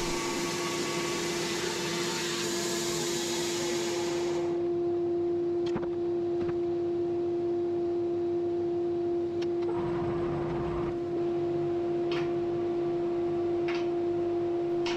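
A Woodmizer LT15 sawmill cutting a large spruce log into planks: a steady loud machine drone with a harsh cutting roar that stops after about four seconds, while the drone carries on with scattered clicks.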